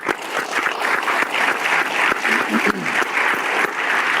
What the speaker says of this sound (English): let's give a round of applause for Patrick